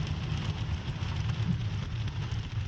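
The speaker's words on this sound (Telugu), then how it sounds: "వర్షం పడుతుంది అనుకున్నాం, స్టార్ట్ అయిపోయింది వర్షం" Rain starts falling outdoors at Yuksom in the Sikkim mountains, a steady, fairly faint hiss of drops with a low rumble underneath and no talking.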